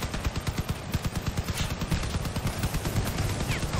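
Machine gun fire in an online video game with Blue Vector machine guns, rapid rhythmic bursts of shots rattling steadily throughout, moderately loud with some overlapping distant firing.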